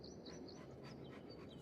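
A dog panting in the farming video game Farming Simulator 25, quick rhythmic breathy pants close by against a steady background hum, no voices.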